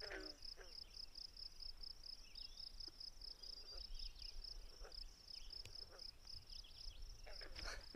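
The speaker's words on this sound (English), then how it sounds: "Those are frogs, in case you don't know." Frogs calling beside the Manistee River in Michigan, a steady high pulsing trill that runs through the whole stretch at a fairly faint level, with a few brief soft noises near the start and end.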